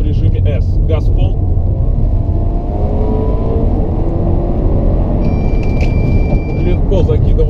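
Audi car engine accelerating hard at full throttle in S mode through a corner on a test drive, a loud steady drone close up, with a brief beeping tone near the end and someone talking over it.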